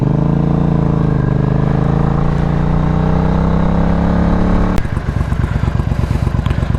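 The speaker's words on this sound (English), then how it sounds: "Figured I'd do a little rever for you with it warmed up." A warmed-up 2003 Triumph Bonneville America motorcycle engine revs loudly up close, a rising sustained roar that drops abruptly near the end into a lumpy, pulsing idle.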